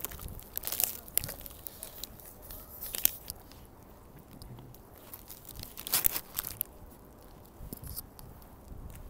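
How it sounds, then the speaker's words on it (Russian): Bites and crunchy chewing of a Bibigon Chicken Max chicken wrap in lavash with sauce, close and crisp, in several irregular bursts separated by quieter pauses. "сейчас я откусываю"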